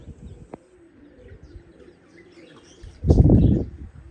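Pigeons coo softly in a loft, with a sharp tap near the half-second mark and a loud burst of flapping wings about three seconds in. The setting holds an Aud pigeon with a pink tail among others, and no one speaks.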